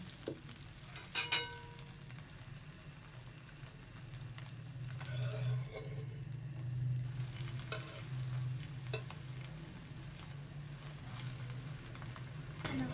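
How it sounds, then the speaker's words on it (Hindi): A large egg frying in a pan, a soft steady sizzle with a couple of sharper clinks near the start, quiet and close with no talking. "एक बड़ा सा अंडा फ्राई करके"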